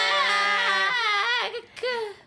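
Children's voices imitating duck quacks at a marionette theatre show, a drawn-out group "quack" in high, wavering tones followed by a short second burst.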